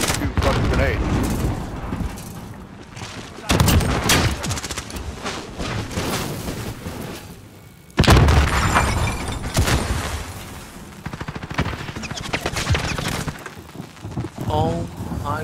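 Gunfire and grenade blasts in a video game shooter, with dense rapid bursts and two heavy booming impacts, loud and close, while a voice talks excitedly over the action.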